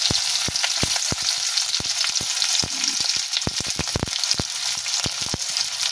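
Chopped onions sizzle steadily in hot oil with pointed gourd, a dense crackling hiss broken by frequent sharp pops and spatters that continue for the whole stretch without any voices.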